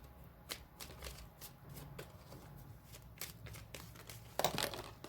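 Tarot cards shuffled by hand, a close, quiet run of papery riffles and flicks with short pauses, ending in a louder burst of cards snapping together; no talking.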